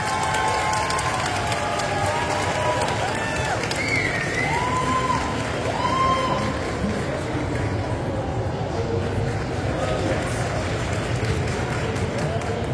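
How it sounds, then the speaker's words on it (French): A large convention crowd at a Paris manga event claps and cheers for a guest, steady dense applause with scattered whoops running unbroken over about thirteen seconds. "Je vous demande d'applaudir très très fort Corinne Nemec"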